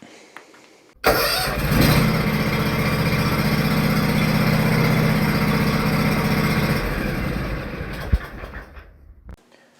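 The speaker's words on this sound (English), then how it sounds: "if you guessed a Stihl GTA26 handheld chainsaw, you would have been correct" A Stihl GTA26 handheld battery chainsaw garden pruner starts abruptly and runs steadily at close range for about six seconds, then winds down with a brief knock before stopping, with no talk.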